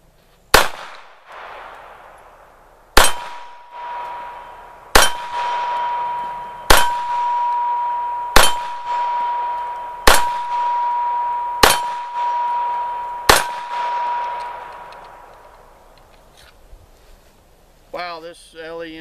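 Eight sharp, loud H&K USP Compact .45 ACP pistol shots ring out at an even pace about every 1.5 seconds, each with a metallic ring and echo, followed by a short burst of talk at the end.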